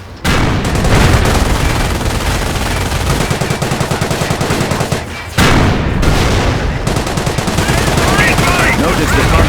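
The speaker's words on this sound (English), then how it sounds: "Notice the Panzer's slow rate of fire" A Panzer tank firing in the World War II strategy game Company of Heroes, dense loud battle gunfire and booms rolling continuously, with a brief break midway before the barrage resumes.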